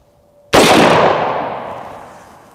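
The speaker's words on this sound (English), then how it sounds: "This is a 458 SOCOM, one of the biggest, scariest rounds out there. It's not really meant to penetrate, but it's just fun to shoot." A 458 SOCOM round fired at AR500 steel body armor: one loud, close gunshot with a sharp metallic crack, then a long ringing decay that fades over about two seconds.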